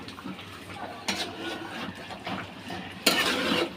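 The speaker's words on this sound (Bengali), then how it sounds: "একটু ভালো করে উল্টা পাল্টায় নেড়ে দিই।" Ground spices, turmeric and a five-seed mix of yellow and black mustard, stirred in a pan for a duck curry with bean seeds: soft scraping and clinking of a spoon against metal, with a louder scrape near the end.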